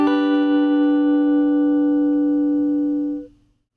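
A single guitar triad chord strummed once and left ringing, bright and steady for about three seconds before cutting off cleanly, close and alone with no talking.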